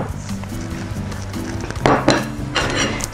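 A spoon stirs and clinks against a dish of meat pie filling, giving a few scraping strokes and two louder knocks near the end over a low steady hum, close by.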